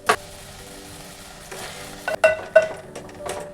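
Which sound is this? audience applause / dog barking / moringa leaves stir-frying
moringa leaves stir-frying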